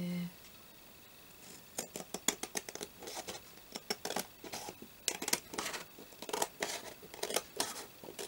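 Scissors trim a paper file folder being decorated with laces and trims, cutting close by in quick bursts of crisp snips after a brief quiet start, with short pauses between runs of cuts.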